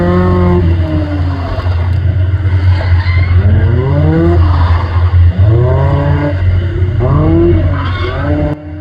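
A Caterham slides sideways at Silverstone in a drifting competition, its loud nearby engine surging and falling in repeated revs under continuous tire squeal.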